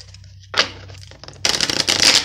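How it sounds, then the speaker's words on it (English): Tarot cards being shuffled by hand, with two bursts of crisp riffling and rustling card noise at close range, the second longer and denser, over faint background hum. "Last shuffle."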